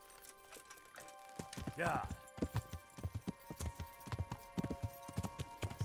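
Horse hooves clip-clopping in Kingdom Come: Deliverance, a run of sharp regular hoofbeats close by with a brief whinny early on, under a man's speech and game music.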